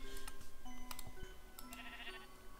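Sheep bleating in the video game Minecraft, short repeated bleats over game music and chimes, fairly quiet.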